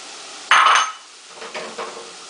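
A spoon stirs onions and carrots in a pot for split pea soup, giving a sharp metallic clank and scrape up close, followed by a couple of softer scrapes.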